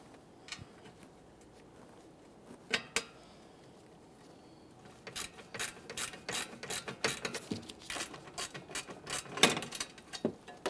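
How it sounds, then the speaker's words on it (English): A ratchet wrench snugs up a 10mm-headed mounting bolt on an AC line during a condenser replacement on a 2014-2019 Toyota Corolla 1.8L. Quiet at first, then a dense run of close, rapid metallic clicks. "We'll start in our 10mm headed mounting bolt, snug it up."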